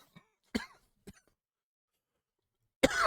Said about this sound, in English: Sorry, I got this cough.